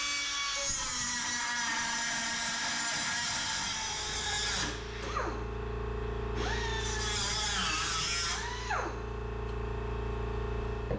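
A McGraw 3-inch air cutoff tool, run off a 20-gallon air compressor, grinds through an M12 grade 8.8 bolt with a loud, steady whine. The pitch sags and recovers twice as the wheel bites into the metal.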